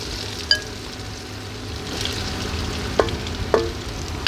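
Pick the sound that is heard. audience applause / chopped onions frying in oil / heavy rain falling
chopped onions frying in oil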